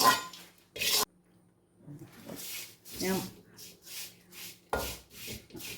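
Flattened red rice flakes (aval) are roasted and stirred in a pan, giving a dry rasping, scraping rustle in repeated strokes, close and fairly loud, with a brief spoken word near the start.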